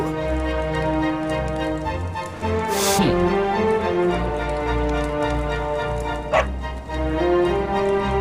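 A dog in the video game Dragon Quest XI barks and yips a few times over looping game music, with a sharp burst of noise midway.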